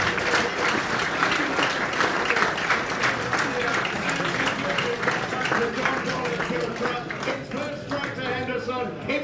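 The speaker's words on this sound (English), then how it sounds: "Give her a huge round of applause" Loud, dense applause fills an awards evening room as a racehorse breeder is welcomed, continuous crowd clapping from start to finish, easing slightly toward the end.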